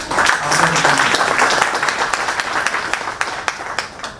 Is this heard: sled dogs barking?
no